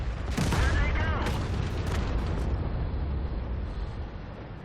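Tank destroyer main gun in World of Tanks fires with a sharp close boom, followed by a few more blasts and a rolling rumble that slowly fades over the rest of the clip.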